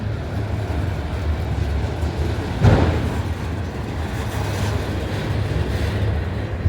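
Freight train cars roll steadily past in Abbeville, giving a constant rumbling roar with rail noise and one brief louder clank partway through.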